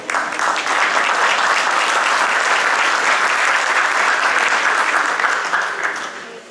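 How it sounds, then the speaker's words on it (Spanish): A forum audience at an urban planning event in Lima applauds strongly to welcome an economist to the stage. The clapping is steady and dense for about six seconds, then fades at the end, with no talk over it. "Recibimos entonces con un fuerte aplauso al economista Gustavo López."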